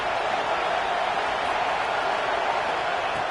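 Roaring stadium crowd in a college football video game, LSU against Texas, a dense continuous wall of cheering noise, loud and unbroken throughout.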